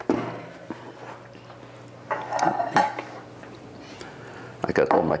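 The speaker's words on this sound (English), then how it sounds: "I'm gonna get the plate out" A plate is lifted out and set down in a home kitchen during pasta and pesto preparation, giving a few clinks and knocks of dishware close by, with a sharper clatter near the end.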